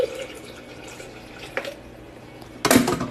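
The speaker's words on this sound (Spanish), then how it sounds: "Le vamos a agregar poquita agua a la licuadora para que" Water poured into a blender jar to rinse out leftover chile sauce while cooking chicken in chile sauce, heard as faint trickles and drips, then a louder splashing pour near the end, with no talk.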